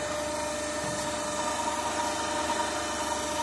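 A DC shunt motor runs at about 1500 RPM on a lab test bench, its speed set with a field rheostat, giving a steady, continuous mechanical hum with a faint whine throughout.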